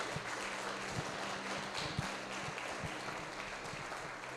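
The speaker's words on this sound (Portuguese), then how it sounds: "Você pode aplaudir ao Senhor no ato de fé" Church congregation applauding during a sermon, a steady sustained wash of clapping from many hands at moderate distance, continuous throughout with no talk over it.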